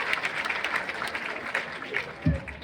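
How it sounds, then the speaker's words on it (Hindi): Applause from a live comedy show audience at a Firozabad festival, a fairly faint, steady patter of clapping over the full stretch with crowd noise and a brief low thump near the end. "तालियां बजाइए।"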